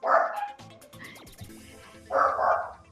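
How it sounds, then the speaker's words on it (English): Dogs barking at a home, two loud bursts of several quick barks near the start and end, separated by quieter yips and scuffling, with no talking. "hopefully my dogs are not too loud"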